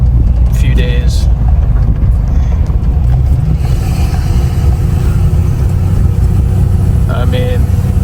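A car engine drones steadily at low pitch while driving, with constant road and cabin noise throughout and faint brief chirps or clicks near the start and end.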